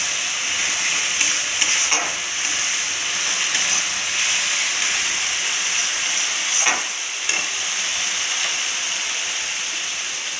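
Water splashes into a hot pan of spinach paneer masala and raises a continuous, close steamy hiss and sizzle, broken by a few brief scraping stirs.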